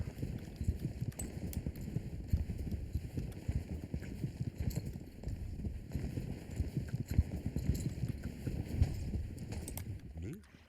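Pony hooves clip-clop steadily in a video game, a close, busy patter of hoofbeats over a countryside setting with a voice talking in French.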